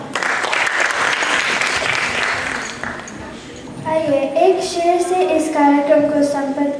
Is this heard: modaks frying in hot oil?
no